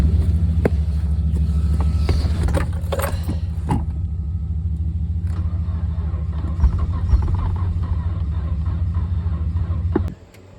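A barn-find Nissan 240SX engine fired up on a gas-can fuel feed, idling steadily and close by for about ten seconds with faint mechanical clatter, then cutting out abruptly near the end.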